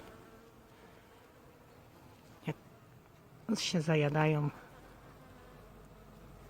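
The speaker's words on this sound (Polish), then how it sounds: "bzyczą różnego rodzaju owady" Bees, flies and other insects buzzing around an evergreen shrub in a garden make a faint, steady hum throughout, broken by a single sharp click and a short stretch of nearby speech.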